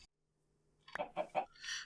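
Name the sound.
chickens clucking in Minecraft video game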